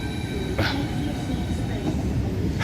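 Train passing near Shepherds Bush in London, a close, steady rolling rumble with a couple of brief sharp bursts, heard alone without talk.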